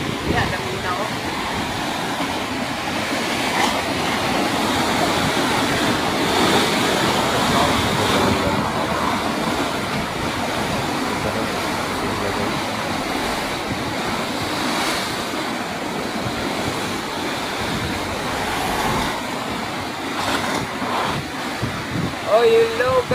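Big ocean waves surge and crash at the sea in Caraga, a continuous roar of surf with wind buffeting the microphone, loud and close throughout.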